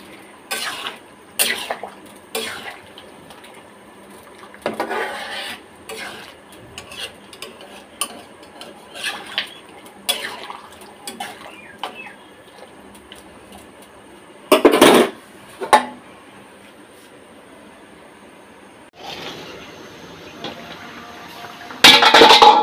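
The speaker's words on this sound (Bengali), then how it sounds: "মাছ দেওয়ার পরে কিন্তু আর লাড়া দেওয়া যাবে না, সে কারণে আমি আগেই লাড়াচাড়া করে নিই, উল্টাপাল্টা করে নিই" A frying fish curry with tomatoes is stirred and turned in a pan, making quiet, intermittent scrapes and metal clinks with short pauses and a few louder clatters.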